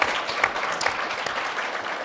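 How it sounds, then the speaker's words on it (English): A room of luncheon guests at the National Press Club claps steadily for about two seconds as a WNBA event audience applauds, a dense, even patter with no voices over it. "Can we have a round of applause?"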